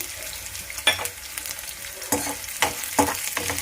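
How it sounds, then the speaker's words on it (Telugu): Moong dal and chana dal frying over a high flame, giving a steady sizzle with a few sharp stirring scrapes near the pan, and no voices. "హై ఫ్లేమ్లోనే పెట్టుకోండి మీడియం ఫ్లేమ్లో ఏం పెట్టుకోవద్దు పెసరపప్పు శనగపప్పు కూడా వేస్తున్నాను"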